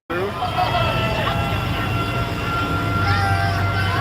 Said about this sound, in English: Yeah, we got some cool old school tractors coming through.